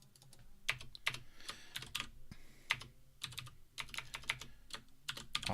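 Keys clatter on a computer keyboard in bursts of uneven typing, close and moderately loud, with short pauses between clusters of keystrokes and no talking.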